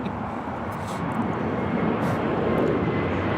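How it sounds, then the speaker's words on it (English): JetBlue Airbus A321neo taking off from Los Angeles International Airport bound for JFK, a brief swelling roar of jet engines that builds slightly in loudness, distant and unaccompanied by voices. "Taking off to JFK, JetBlue 1124. It's an A321neo."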